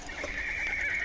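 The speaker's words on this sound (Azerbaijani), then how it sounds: "Atlar." A horse gives a single high, quavering whinny that holds steady for about a second, faint and at a distance.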